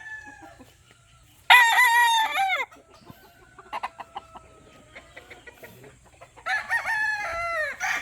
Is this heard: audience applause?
no